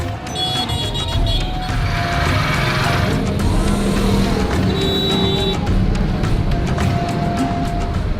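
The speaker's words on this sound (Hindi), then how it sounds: "लाहौर में भारी ट्रैफिक से बचने का दूसरा तरीका गलियों में प्रवेश करना है।" Dense, loud street traffic in Lahore, with a continuous rumble of car and truck engines, passing vehicles and occasional horn-like tones running steadily throughout.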